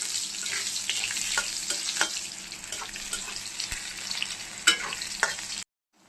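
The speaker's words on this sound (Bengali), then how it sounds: "আমটা একটু হালকা করে ভেজে নেব।" Mango pieces lightly frying in a pan after a mustard-seed tempering, giving a steady bright sizzle with scattered stirring scrapes and clinks, close and fairly quiet, with no talk, before the sound cuts off near the end.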